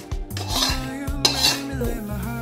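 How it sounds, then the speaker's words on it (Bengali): A cake pan coated with caramel for a banana and egg pudding is swirled around, making short metallic scrapes and clinks over a low hum, with a couple of brighter rattling peaks. "আর দেখো আমি শুধু জাস্ট এরকমভাবে একটু ঘুরিয়ে ঘুরিয়ে নিচ্ছি। আমি পুরো কভার করে নেব এইভাবে।"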